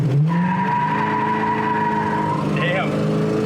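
A 1966 Pontiac GTO at a classic car dealer revs loud and close as the throttle breaks the tires loose, its engine note climbing and then holding steady with a squealing whine over it.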